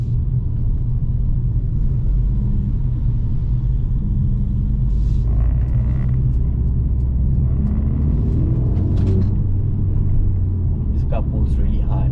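Mercedes-AMG CLA45S 4Matic+ accelerating hard in comfort mode, a loud, steady low cabin rumble of engine and road noise throughout, with a person talking over it.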